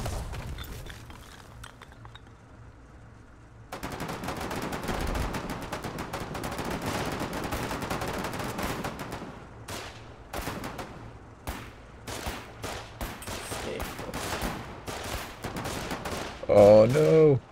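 Repeated bursts of gunfire from a manned gun in the Foxhole war video game, a sustained fusillade of shots and clattering mechanisms with scattered faint voices, ending in a louder blast.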